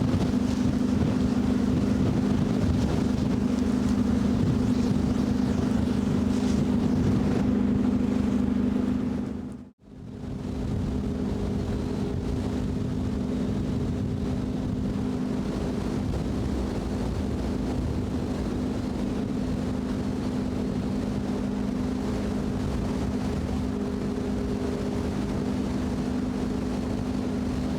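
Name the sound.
ship breaking through sea ice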